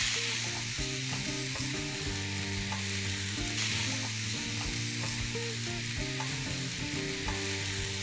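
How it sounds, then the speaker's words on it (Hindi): Chicken pieces for pahadi kebab frying in a little oil in a pan, a loud, continuous close-up sizzle with rhythmic stirring and scraping sounds, no voices. "थोड़ा तेल डाल के सबसे पहले हम चिकन को पैन में फ्राई कर लेंगे"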